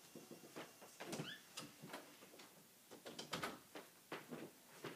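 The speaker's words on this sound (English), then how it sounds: "let me close the door because there's a lot of noise" An indoor door being shut, heard as a quick run of clunks, knocks and rattles, fairly close and moderately loud, with no talking.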